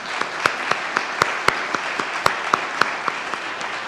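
A church congregation applauds an a cappella trio during a morning service, a steady wash of clapping with sharp individual claps standing out in a regular rhythm, close and moderately loud with no talk.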